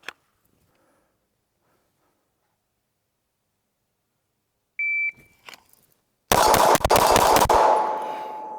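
Pistol shots from a Glock 19 Gen 5 with Ramjet Afterburner or a Zev OZ9 Hypercomp X Icarus at a range, a shot timer beep, then a rapid string of loud, sharp close reports with ringing decay.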